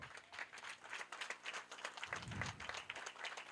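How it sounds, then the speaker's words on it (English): Audience applauding at a school graduation and prize-giving ceremony, many hands clapping in a dense, steady patter heard from a distance at moderate loudness, with a low thump partway through. "And give them a round of applause."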